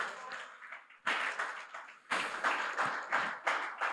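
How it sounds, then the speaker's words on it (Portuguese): A church congregation claps in several bursts of hand applause that swell and fade in quick succession, fairly close, with a little voice mixed in. "Uma salva de palmas para o mestre."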